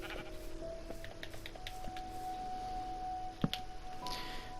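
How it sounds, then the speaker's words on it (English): Sheep bleat in a video game, a few short calls rising over a steady backdrop of game ambience and tones, fairly faint and with no one talking. "There we go, we got some sheep going on."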